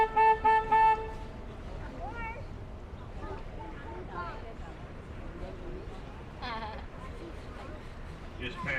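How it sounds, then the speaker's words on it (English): River tour boat horn on the San Antonio Riverwalk giving a few short honks at the start, followed by a quieter stretch of open-air boat ambience with a guide talking and faint crowd noise. "We're going to honk the horn here."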